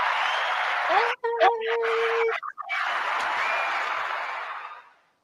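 Sustained crowd applause and cheering, used as a welcome for a podcast guest, plays loud and continuous with a brief break midway before fading out.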